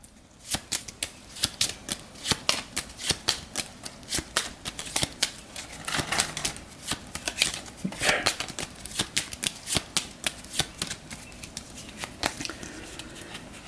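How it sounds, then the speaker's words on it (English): Gaia Project board game cards being shuffled, a close, steady run of crisp riffling snaps and flutters repeating for about fourteen seconds with no talk over them. "We'll shuffle these up."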